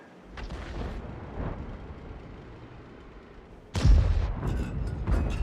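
Tank cannon fire in World of Tanks: a muffled engine rumble underlies the clip until a single heavy, close cannon boom bursts out near the end, followed by rumbling debris and a loud lingering roar.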